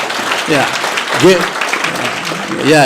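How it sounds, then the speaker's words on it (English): A crowd of rideshare drivers at an association gathering applauds, a continuous loud wash of clapping with voices calling out over it. "Give yourself a big applause."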